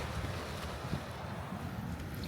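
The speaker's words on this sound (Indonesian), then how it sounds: "Ombaknya kayak begini" Sea waves wash beside a boat near Pari Island under cloudy skies, forming a dense, steady rush mixed with wind buffeting the microphone, with no clear individual breakers.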